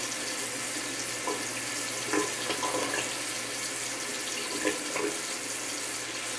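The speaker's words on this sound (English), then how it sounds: "Run some water, let it get hot a little." A bathroom sink tap runs steadily, a loud continuous hiss of water with small splashes and clinks against the basin, no voices present.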